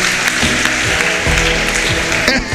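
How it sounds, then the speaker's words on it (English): Applause from an audience at a schoolchildren's debate event, steady dense clapping filling the whole stretch, loud and close, with a few voices faintly mixed in. "Clap for yourselves."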